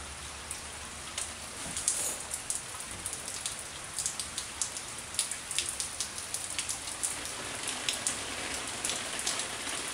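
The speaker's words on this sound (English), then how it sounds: "It's raining." Steady rain falls outdoors, a dense hiss of drops with frequent close, sharp patters and drips on a nearby surface throughout.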